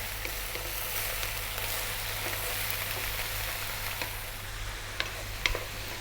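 Bean sprouts and vegetables stir-frying on high heat for a Chinese oyster sauce dish, a steady dense sizzle throughout with occasional small ticks and scrapes from stirring, close and alone with no talk.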